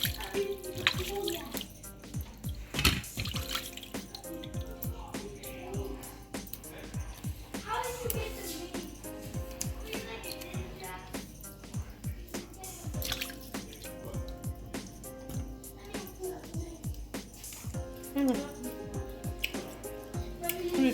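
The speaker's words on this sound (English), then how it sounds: "Just going to wash the fish." Fish is rinsed under a running tap while egusi soup is prepared in a Nigerian kitchen, giving steady splashing and dripping water with intermittent sharper splashes, fairly quiet and close by.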